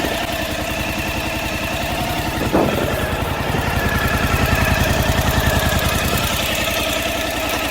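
A Suzuki V-Strom 1050 motorcycle engine fires up after a brief starter whir, then settles into a loud, close, steady throbbing idle that continues evenly for several seconds.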